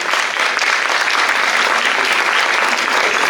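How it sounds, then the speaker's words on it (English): Applause at an award ceremony as a Lifetime Award is presented: a dense, steady wash of many hands clapping, loud and sustained throughout with no voices rising above it. "A round of applause, please"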